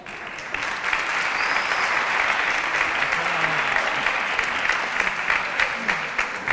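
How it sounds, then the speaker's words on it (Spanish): An audience at a conference on advanced oncology nursing practice in the United Kingdom applauds a speaker with dense, sustained clapping. The applause holds level throughout and fills the room with no voices over it. "Quiero que le demos un aplauso"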